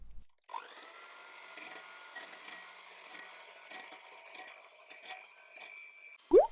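An electric mixer whipping egg whites with a few drops of lemon juice at medium-high speed, a steady close whirring drone that runs unbroken for several seconds before cutting off with a short clatter.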